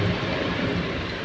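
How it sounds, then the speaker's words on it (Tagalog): Heavy rain pours down in a dense, steady roar around a parked truck, loud and continuous with no speech. "Lakas ng ulan"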